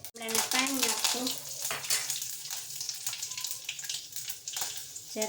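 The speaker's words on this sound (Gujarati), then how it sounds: "પાણી નાખશું" Water goes into a hot pan tempered with mustard seeds and cumin for Kathiyawadi vaghareli khichdi, and it sizzles sharply up close while a voice talks over it.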